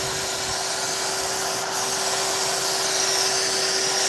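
A paint spray gun, heard up close, sprays primer onto a rust-repaired panel with a steady, loud, airy hiss and a constant thin tonal whine running beneath it.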